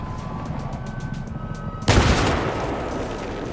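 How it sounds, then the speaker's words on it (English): After faint rhythmic clicking, a sudden close explosion in the video game Battlefield bursts with a deep boom, then decays into a rumbling tail. "we're standing right next to this explosion and you can hear it instantly"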